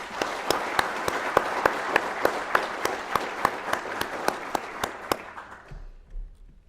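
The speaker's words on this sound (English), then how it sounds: "Please join me in giving the award recipients a round of applause." Applause from a seated audience at a Border Patrol academy graduation ceremony, steady clapping with a few louder near claps before it fades out to quiet.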